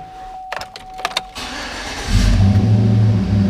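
A Chevrolet Silverado pickup with dual rear exhaust starting up: a few clicks and a faint whine, then the engine catches and settles into a loud, deep rumbling idle close to the tailpipes.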